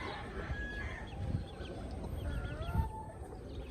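Rooster and hen clucking quietly in a farmyard, with soft scattered clucks and calls over faint background noise.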